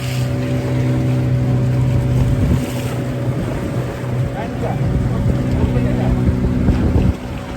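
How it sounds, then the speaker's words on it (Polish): Motorboat carrying surfers out to the breaks off Kuta Lombok, its engine droning loud and steady with a low hum, wind buffeting the microphone and water splashing against the hull, no talk heard. "bierzemy łódkę, żeby znaleźć najlepsze fale"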